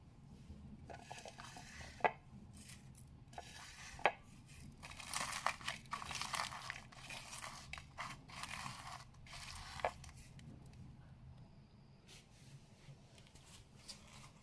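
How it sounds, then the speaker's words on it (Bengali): Fried dried chillies being crushed with salt by hand, producing quiet crinkling, crackling rubs in uneven bursts with a few sharp snaps, close and soft without talk. "এবার হচ্ছে লবণ দিয়ে শুকনো মরিচটাকে ভালো করে"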